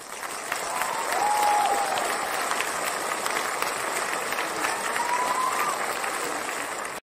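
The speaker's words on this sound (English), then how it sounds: "We're clapping for the founder journey advice, folks." Audience applause fills the room at a business startup talk, steady and sustained clapping from a crowd lasting about seven seconds, with a brief voice or two faintly under it.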